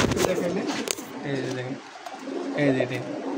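Pigeons coo in low, throaty bursts, two clear rounds close by, from a nesting pair sitting on eggs in a clay pot, with a person talking over them.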